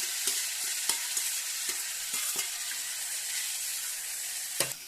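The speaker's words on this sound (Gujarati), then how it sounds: "મિત્રો આપણે ગ્રેવી તેલમાં નાખી દીધી છે" Onion, tomato and garlic gravy fries in hot oil with a steady bright sizzle, broken by several sharp clicks and scrapes of stirring.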